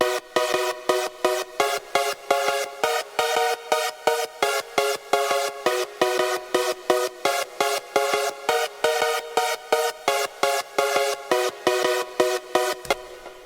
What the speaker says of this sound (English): That is how you make the German trumpet / Supersaw sound from my pack,